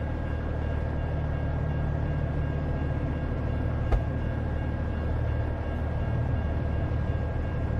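A long freight train rolling past in a trucking simulation game, a steady low rumble and clatter that carries on evenly without letting up, with a single brief knock partway through.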